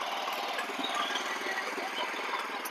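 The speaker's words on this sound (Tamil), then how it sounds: "பவர் வீடரு செம்மையாக ஓட்டிட்டு இருக்காரு பாருங்க" A petrol power weeder engine runs steadily in a farm field, a continuous close mechanical drone with a buzzing rattle and no pauses across the stretch.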